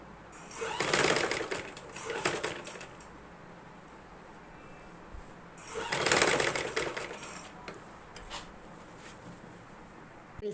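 Sewing machine stitching around the frilled edge of a newborn baby dress, two bursts of running stitches about a second or two long separated by a quiet pause, fairly close and steady with no talk.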